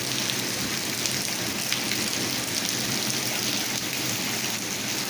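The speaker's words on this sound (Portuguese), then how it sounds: "Deus tá mandando pra gente muita chuva" Heavy rain falls steadily on a flat concrete roof slab during an afternoon downpour in Garanhuns, a dense, even hiss of drops with no voices.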